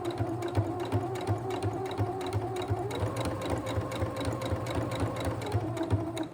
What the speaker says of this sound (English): If you want to do a little back stitch at the beginning and end of each flag just for extra security